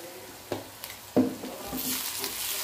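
Curry leaves dropped into fried onion in a hot pan, a few soft knocks and taps followed by a rising, steady sizzle and crackle of frying.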